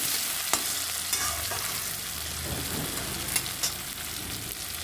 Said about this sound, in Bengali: এই পর্যায়ে আমি দিয়ে দেব কেটে রাখা পেঁয়াজটা আর একটা লঙ্কা। তো বন্ধুরা, এটাকে সুন্দর করে আমি ভেজে নেব।